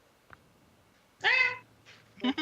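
A cat meows twice in quick succession, clear and fairly close against a quiet background, the first call longer and the second shorter and sharper.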